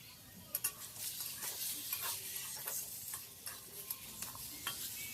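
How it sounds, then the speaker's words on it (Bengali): Small pieces of eggplant and potato are stirred and fried in a pan, with a spatula scraping and clicking repeatedly over a constant close sizzle of hot oil. "ভালো করে নেড়ে চেড়ে লাল করে ভেজে নেব।"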